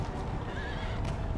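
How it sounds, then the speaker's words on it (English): Warhorses in the Empire: Total War battle game neigh over galloping hooves, a brief, faint whinny atop a rumbling clatter of a cavalry charge. "Don't want no horses attacking my cannons."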